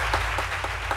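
A short burst of dense studio audience applause on a French-language midday TV talk show, a continuous even clatter of many hands clapping.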